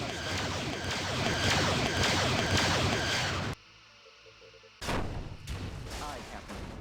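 Weapons fire striking a starship's shields in Star Trek Bridge Commander, a loud, dense roar of energy blasts and rumbling impacts that cuts out abruptly, then returns as a quieter crackling barrage.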